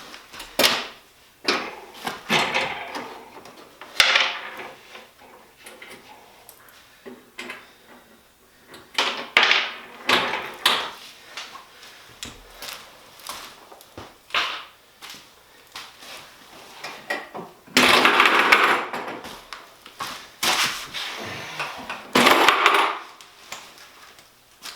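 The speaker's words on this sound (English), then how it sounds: "So just pulling the pins in the front." Quick-release pins being pulled to drop a front splitter on a Crown Victoria or Grand Marquis, heard as a series of scattered metallic clicks, knocks and rattles up close.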